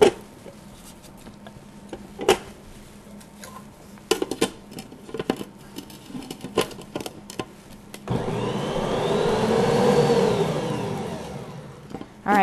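An electric mixer whirs through gluten-free sugar cookie dough mixed with Jell-O pudding, a steady mid-pitched motor hum of several seconds after scattered clinks and handling sounds, close and alone.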